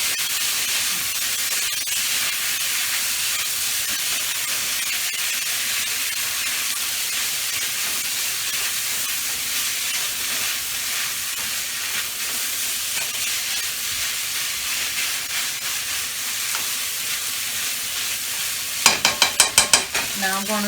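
Fried rice sizzles steadily in a hot pan as soy sauce goes in, a dense continuous hiss and crackle with stirring, and a short burst of sharp scraping taps near the end.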